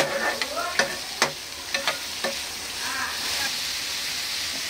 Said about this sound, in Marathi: कांदे पण आता आपण 1-2 मिनिटं ना फास्टवर परतून घेऊया